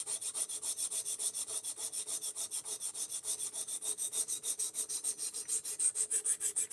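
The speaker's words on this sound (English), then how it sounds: "We are sharpening this knife, is what we're doing" A knife is sharpened with a steady run of rapid, even scraping strokes, each stroke a short rasp in a regular back-and-forth rhythm. It sounds close and moderately quiet, with no voices.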